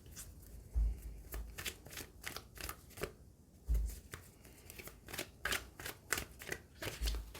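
A deck of tarot cards is shuffled close up, in repeated crisp riffling bursts and soft slaps with short pauses between rounds.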